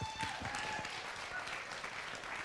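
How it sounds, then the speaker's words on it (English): An audience at a live show applauds in a steady, dense wash of clapping that holds at an even level throughout, with a faint voice in the background. "please give them a round of applause"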